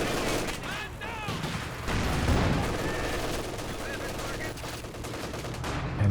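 Rattling gunfire and heavy ZiS artillery barrage thuds fill a Company of Heroes 2 match, a dense continuous battle din with bursts of automatic fire over a steady low rumble, loud and unbroken throughout.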